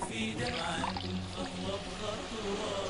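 A little water is poured into a cooking pan on a low flame, giving a soft, steady pouring hiss throughout, with faint kitchen background noise.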